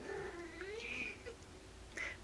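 A pet cat gives soft wavering meows over a faint low purr, quiet and close indoors, a few short calls in a row with no talking.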